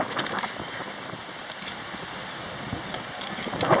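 Wind blowing hard at Venice Beach, Los Angeles, with light rain, a continuous rushing buffet across the microphone with a few small taps and gusts rising near the end.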